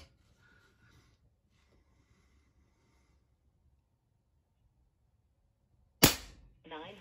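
A single sharp shot from an Aselkon MX8 .22 PCP air rifle firing JSB pellets cracks loudly and close after several seconds of near silence, followed by a short hiss.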